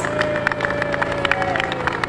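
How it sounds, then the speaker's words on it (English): A crowd at an outdoor community event's opening ceremony claps and cheers for the event organizer, with a dense, steady patter of hands, a few sharper claps standing out and some voices mixed in. "So please give her a round of applause"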